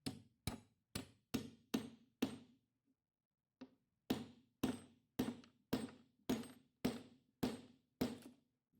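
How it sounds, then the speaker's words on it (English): A hammer taps a bolt down into a hole drilled through plywood for a wagon build. There are crisp, close, evenly spaced blows in two runs, six and then about nine, with a short pause between them. "I'm going to put this bolt in there, give it a little tap with a hammer."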